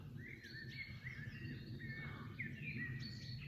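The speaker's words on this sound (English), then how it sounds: "Blackbird in the background." A blackbird sings in the background outdoors by a stone wall under blue sky in spring, its clear fluted phrases repeating faintly over a steady low rumble, with no talking.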